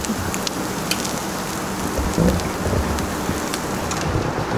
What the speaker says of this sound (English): It's a rainy morning today.